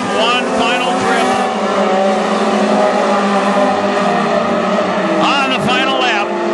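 Mod 4 race cars roar around a dirt speedway during the final lap of an evening heat race, their engines droning loudly and continuously, with one car's pitch rising as it passes near, under an announcer's steady commentary.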